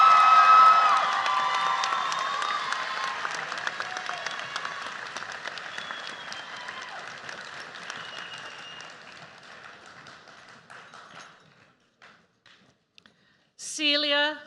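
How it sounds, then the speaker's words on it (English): Graduation ceremony crowd applauding graduates, loud sustained clapping with a few whoops that gradually fades to quiet, then a brief burst of talking at the end. "Please join me once again for a round of applause for this set of graduates."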